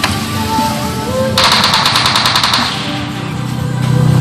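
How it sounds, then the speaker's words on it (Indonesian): Automatic gunfire in the mobile battle royale game PUBG Mobile: a loud, rapid burst of about a dozen evenly spaced shots rings out over steady game ambience, close and prominent, with no talk. "Ada yang nembak juga."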